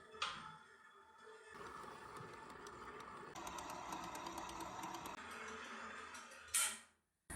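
A stand mixer kneads panettone dough at low speed, a faint steady motor whir with a rhythmic mechanical hum that shifts slightly midway, then cuts off near the end.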